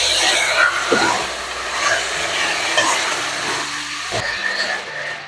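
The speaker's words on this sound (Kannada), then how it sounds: "ಇಟ್ಕೊಂಡಿರೋ ಎಲ್ಲ ತರಕಾರಿಗಳನ್ನು ಸೇರಿಸ್ತಾ ಇದ್ದೀನಿ ಇಲ್ಲ ಒಂದ್ಸರಿ ಫ್ರೈ ಆಗ್ತಿರುತ್ತೆ" Cut vegetables, beans and potatoes among them, fry in hot oil for veg biryani, giving a steady, dense sizzle that stays loud and even throughout.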